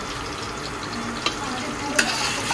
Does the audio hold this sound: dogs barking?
no